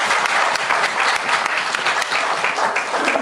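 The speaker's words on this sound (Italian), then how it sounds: "Un bel applauso di incoraggiamento perché è molto emozionante." An audience at a poetry award ceremony breaks into sustained applause, dense clapping from a full room that holds steady and fairly loud throughout.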